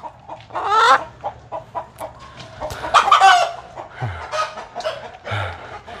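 Hens and roosters in a laying coop, with the birds being treated for mange, cluck loudly and close, with sharp squawks and a rooster's crow rising over the restless clucking.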